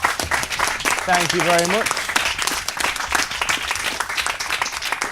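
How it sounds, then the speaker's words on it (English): Audience applause for student union candidates after a VP Services and Communications leadership debate, steady dense clapping filling the room for several seconds while a voice briefly speaks over it. "if you'd like to give the candidates a round of applause, please"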